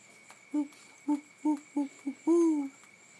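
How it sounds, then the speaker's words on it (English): An owl hoots at night in a rainy outdoor setting, a series of five short hoots followed by one longer drawn-out call, clear against quiet background hiss. "I heard an owl."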